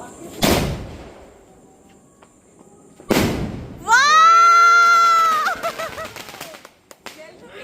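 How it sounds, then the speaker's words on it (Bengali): Medium aerial firework shells burst in two loud, sharp booms at a Kali Puja night, followed by a long warbling, whistling crackle as sparks fall, with faint voices around. "আমাদের এই মিডিয়াম সেলটা ফাটানো হবে।"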